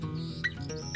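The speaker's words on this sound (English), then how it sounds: "In the sky a bird was heard to cry." Bird chirps and short tweets sound in a song, close and repeated over a steady mid-range tone.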